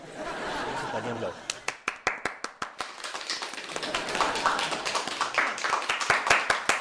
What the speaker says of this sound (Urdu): اتنی زور سے تالیاں کیوں بجا رہے ہو